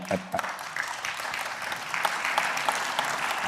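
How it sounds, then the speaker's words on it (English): Audience applause at a dialogue event on the Constitution: a steady patter of many hands clapping, fairly close and even in loudness, with a louder opening moment. "I'm glad you clapped because I think that's very, very important."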